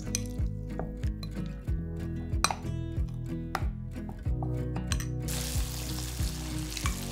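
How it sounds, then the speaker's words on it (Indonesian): Curry paste poured into sautéed ingredients in a thick pot for a fish head curry, sizzling and frying steadily with stirring and clinking of a utensil against the pot, the sizzle surging louder near the end. "Tuang paste kari, masuk sekali dengan bahan tumis."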